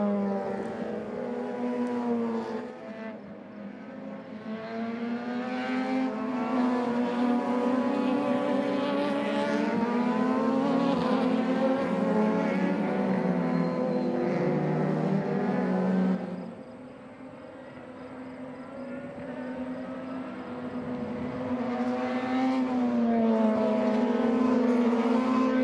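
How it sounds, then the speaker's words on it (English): Radical race cars in the Emzone Radical Cup lapping Canadian Tire Motorsport Park, high-revving engines screaming past in waves, swelling and fading as cars come and go, heard from trackside. "They're out on the racetrack now, the Emzone Radical Cup."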